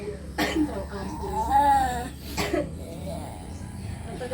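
A few sharp coughs ring out, one early and another a couple of seconds later, with a whimpering voice and talking in between.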